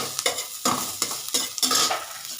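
Neem leaves and brinjal frying in a pan with salt and turmeric, a bright crackling sizzle punctuated by several quick stirring scrapes in close succession.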